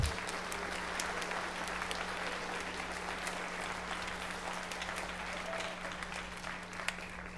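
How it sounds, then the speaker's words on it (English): A school concert audience applauds steadily and fairly loudly, sustained clapping filling the whole stretch with no talk over it. "give all of those parapros a nice round of applause"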